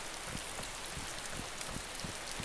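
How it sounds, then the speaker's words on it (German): Steady rain falls in the video game DayZ, a dense even hiss of drops with soft irregular patters, continuous and alone with no voices. "Regnet das bei euch auch?"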